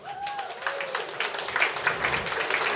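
An audience applauds steadily at the introduction of a competition jury, greeting a musician with a dense patter of clapping at moderate volume. A speaker's voice briefly rises over the start.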